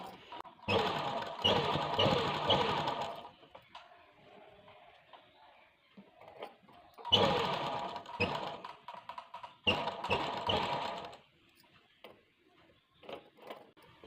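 A sewing machine stitches pleats into a frock suit, with three close bursts of rapid mechanical whirring separated by quiet pauses with soft handling noises.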